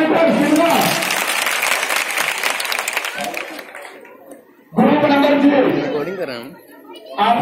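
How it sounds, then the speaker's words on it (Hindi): An audience at a village quiz competition in Saraiya Pipara, Palamau, Jharkhand claps loudly for a correct answer. The applause fades briefly and then bursts out again, with chatter and voices mixed in. "ताली बजाएं"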